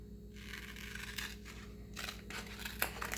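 Scissors cutting paper hearts, soft snipping and scraping strokes in a few short bursts over a low steady hum, close but quiet.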